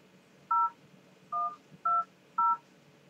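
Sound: telephone dialing tones

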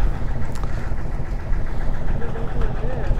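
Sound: engine of a hired boat to Nainativu

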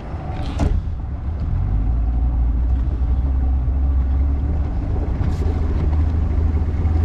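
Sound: Spectrum 50 hp two-stroke outboard boat motor chugging

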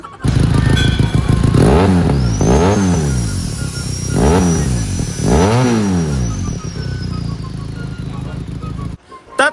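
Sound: motorcycle engine revving with aftermarket exhaust pipe

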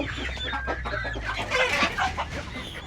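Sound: chickens clucking

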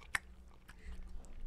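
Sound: person chewing food while tasting bourbon

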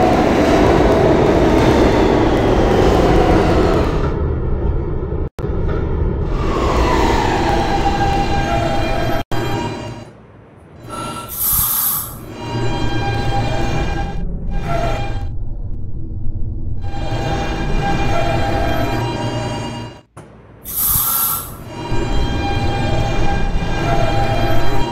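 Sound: R160B Siemens subway train running, from Roblox video game

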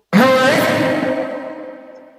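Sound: distorted vocal sample with reverb

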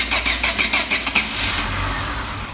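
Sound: Renault Megane 1 car engine starting

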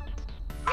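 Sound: frogs croaking in ABC Galaxy alphabet video game

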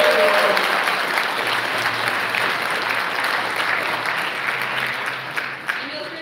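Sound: audience applause for band at concert

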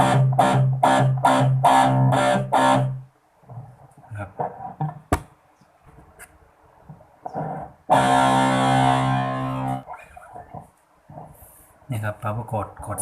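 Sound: palm-muted electric guitar power chords

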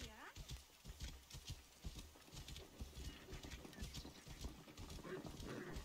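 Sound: horse hooves clip-clopping in video game

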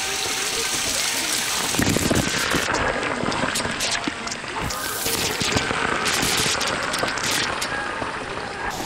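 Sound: heavy rain on a mountain trek

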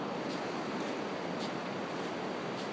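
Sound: ocean waves on an Oregon beach

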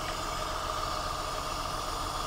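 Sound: car engine idling

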